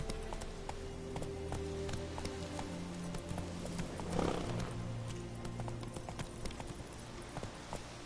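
Roach, a horse in a video game, gallops with a rapid, regular clip-clop of hooves, close and clear over a low steady background, with a brief snort or whinny near the middle.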